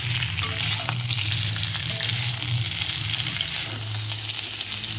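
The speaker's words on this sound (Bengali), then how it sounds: "আমি সবজিটা আর একবার ভালোভাবে নেড়ে চেড়ে দেখছি।" Vegetables for Bengali shukto being stirred in a hot pan, a steady broadband sizzle of frying with occasional scraping stirs, close and continuous with no voices.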